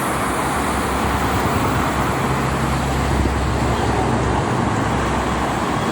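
Heavy, continuous traffic on a busy arterial road beside the Jakarta–Cikampek toll road during return-trip travel, crowded with motorcycles, cars and buses. A dense, loud, steady roar of engines and tyres persists throughout without a break.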